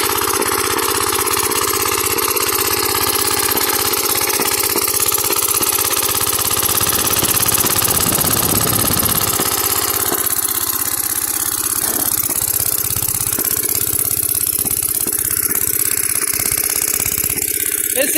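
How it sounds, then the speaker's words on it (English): Briggs & Stratton Model Y half-horsepower engine running steadily, a continuous loud chugging drone throughout with slight fluctuations, close up and alone without talk. "This engine has exactly half a horsepower"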